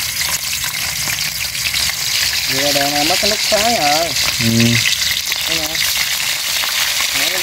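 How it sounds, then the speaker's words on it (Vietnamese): Fish frying in a pan gives a steady, loud sizzle throughout, while people talk briefly over it. "chiên cá trước."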